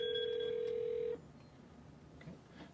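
A telephone rings on a CQ600 phone system after a call transfer, giving a steady electronic ring tone that lasts about a second before cutting off, followed by quiet room noise.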